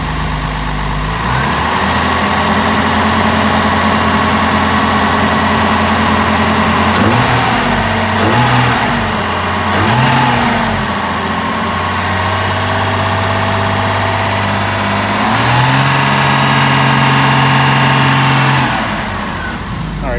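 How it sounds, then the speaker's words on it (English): A 1971 Mercedes-Benz 280SL engine idles steadily up close, then is revved several times in short bursts, the pitch rising and falling before settling back to a smooth idle. "And let's go ahead and rev it up a little bit."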